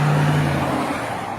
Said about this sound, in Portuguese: O motor V8, com mais de 280 cavalos, e a tração traseira.